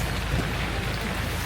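Steady rain drums on a safari vehicle with its sides down in Uganda, a continuous, even hiss of drops with no pauses.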